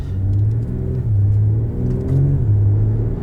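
A 2020 BMW X4 M40i with a B58 engine under way, a close, deep engine rumble that rises in pitch several times with quick upshifts of the torque converter automatic, no talking.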